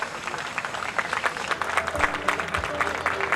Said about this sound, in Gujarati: તેઓને તાળીઓના ગડગડાટથી આપણે વધાવીએ